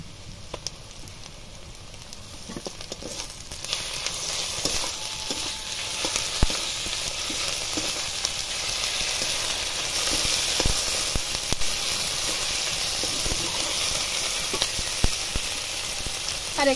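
Onions with ginger garlic paste sizzle in a hot pan for a chicken curry, a continuous hissing fry that grows louder after the paste goes in, with occasional scrapes and taps of stirring.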